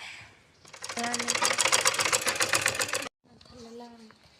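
A sewing machine stitches a salwar in a fast, rattling burst of about two seconds, stopping abruptly before a voice is heard talking.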